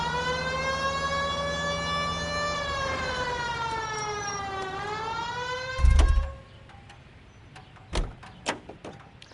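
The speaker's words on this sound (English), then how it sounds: "It's much more fun with the siren on, Phelps." A police car siren wails in the L.A. Noire video game, loud and sweeping up and down for several seconds, then breaks off with a heavy thump followed by scattered knocks.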